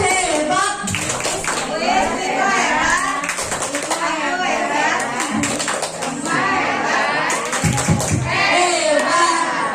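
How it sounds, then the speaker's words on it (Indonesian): Teachers at an elementary school in-house training session perform a rhythmic group clapping routine, with patterned claps mixed under loud, overlapping chanting and voices throughout. "kita kasih tepuk hebat buat Bu Iis dan Bu Iko"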